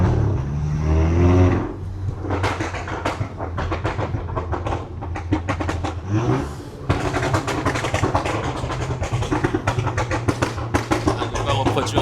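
A VW Golf GTI Performance engine revs hard with turbo whoosh and intake roar, rising and falling rapid pulsing bursts up close, loud, with people talking briefly at the start.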